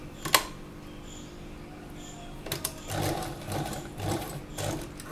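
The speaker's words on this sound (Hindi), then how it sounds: "अब यहाँ कॉर्नर पे आके हम फिर नीडल को अंदर रखकर फुट उठाकर ऐसे सिलाई लगाएंगे।" A sewing machine stitches the corner of an Anarkali dress, a close click of the needle and foot being set, then short bursts of whirring stitching in a quiet room.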